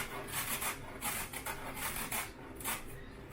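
Beets are rubbed down a box grater in quick, rhythmic rasping strokes, close and moderately quiet, with no voices.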